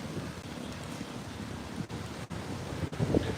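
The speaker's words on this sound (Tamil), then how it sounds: "காற்றுன்னா அப்படி அடிக்குது குளிர் காற்று" Steady gusty cold wind roars outdoors in Canada with broadband rushing noise and brief buffeting dips, no voices present.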